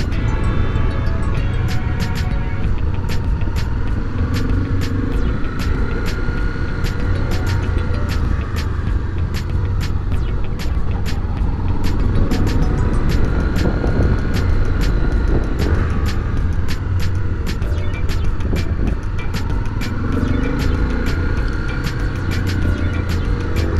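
A Honda XRE300 motorcycle is ridden during a riding lesson, its engine droning steadily and loudly for the whole stretch with wind rush and a few small clicks, and no talking.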